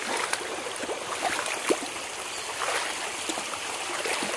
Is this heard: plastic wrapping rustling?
no